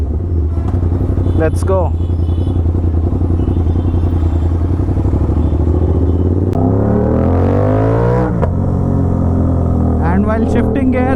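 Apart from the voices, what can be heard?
Aprilia RS 660 with SC Project full titanium exhaust revving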